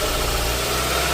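A car engine with an electronic throttle control fault runs loud and close, holding a steady, throbbing tone through the short stretch.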